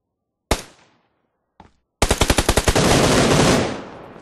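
Gunfire from the battle royale video game PUBG Lite: two sharp isolated shots, then a rapid burst of about eight close, loud automatic rounds merging into a sustained roar.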